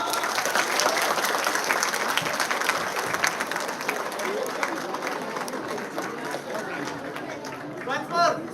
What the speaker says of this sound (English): The clapping should not stop.